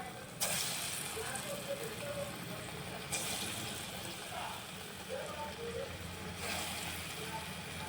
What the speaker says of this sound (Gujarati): તેલ ગરમ થઈ ગયું છે એટલે હવે આપણે ભજીયા ઉમેરતા જશું